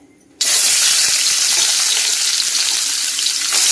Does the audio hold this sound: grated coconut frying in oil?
yes